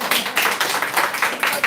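Hindi-speaking audience at a talk or seminar breaking into applause, a dense run of overlapping hand claps at steady loudness throughout, close and busy with no voices over it.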